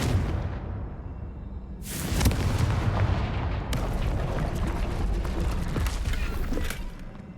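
A Confringo explosive spell goes off in Hogwarts Legacy: a quiet rumbling opening gives way to a sudden loud blast, followed by a sustained roaring, crackling wash of debris and echo.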